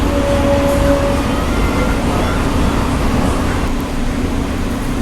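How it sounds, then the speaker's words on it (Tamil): A Chennai suburban local train bound for Beach passes outside near Tambaram, heard as a loud, continuous low rumble and rolling roar from inside another moving AC local train, with a faint tonal whine early on. "வெளியே ஒரு லோக்கல் ட்ரெயின் வருதுங்க பீச் போகுது"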